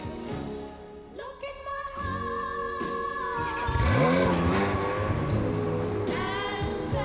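A Ferrari 360 Modena engine revs and accelerates, its rising harmonic whine sweeping up loud and close, with a deeper roar swelling in the middle as the car pulls past, engine note continuous throughout.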